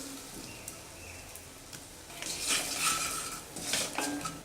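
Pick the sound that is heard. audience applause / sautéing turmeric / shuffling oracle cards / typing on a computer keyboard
sautéing turmeric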